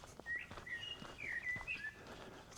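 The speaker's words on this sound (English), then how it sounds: "listen to the birds singing." Birds sing in the New Forest woodland in springtime, thin high chirps and short whistled phrases scattered across the clip, moderately near over a soft outdoor background with no talking.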